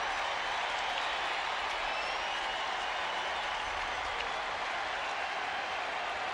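Large crowd of Boston fans cheering at a Red Sox baseball game in Oakland, a steady broad roar of voices and applause sustained throughout at moderate distance.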